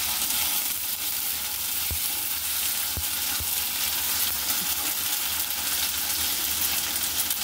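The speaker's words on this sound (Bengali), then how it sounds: "এখন দিব জিরা আর রসুন বাটা একসঙ্গে" Cumin and garlic paste hit hot oil together for a dried-fish dish and give off a steady, dense sizzle. It carries on without a break, with a few soft low thumps from the pan and no voices.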